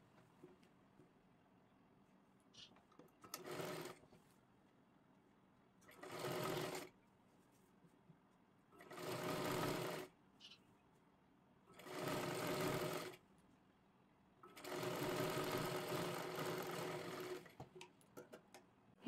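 Sewing machine stitching the hem of a kurti in five separate bursts of rapid, steady whirring, close and moderately loud, with near-silent pauses between them.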